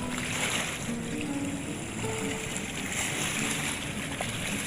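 Strong river current rushing through Bustos Dam two days after a typhoon, a steady broadband roar of churning water, loud and continuous with no pauses.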